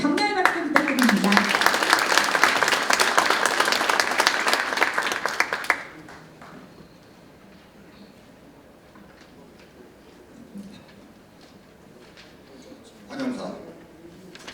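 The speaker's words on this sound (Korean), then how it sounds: "여러분 격려의 박수 부탁드립니다." Audience applause welcoming the chairman of a fishing-boat association at a policy forum on fishing-boat safety, dense steady clapping for about six seconds before fading out, followed by quiet room noise and a brief voice.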